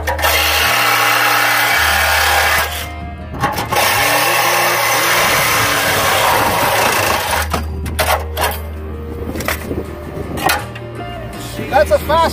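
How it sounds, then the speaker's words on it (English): A power cutting tool slicing a catalytic converter off the underside of a car, a loud, close, steady buzzing grind that runs continuously, then breaks into choppy bursts and rattles near the end, with a voice speaking over part of it. "That's a fast way to cut the catalytic converter off."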